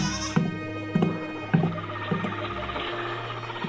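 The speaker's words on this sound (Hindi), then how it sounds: "संतोष बकरी के बच्चे को लेकर जंगल में छोड़ने के लिए जाता है।" A baby goat in a Hindi cartoon story gives a few short, close bleats in an irregular series, each a wavering nasal cry, with a low steady tone underneath.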